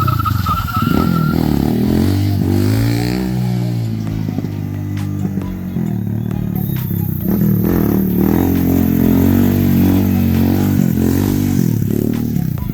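A motorcycle engine revs and drones close by during wheelie practice on a Jamaican street, rising and falling in pitch through repeated throttle pulls, loud and continuous with no talking.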